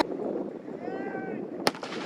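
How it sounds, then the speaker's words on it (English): An explosive breaching charge blows a door in at a military display: one sudden, sharp bang cuts through a background of murmuring crowd and faint voices. "So set a charge to blow the door in and we'll wait and see what happens."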